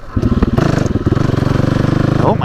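A motorcycle engine runs roughly and unevenly at close range, its loud, lumpy firing pulses stumbling and surging for a couple of seconds with a clattery mechanical edge.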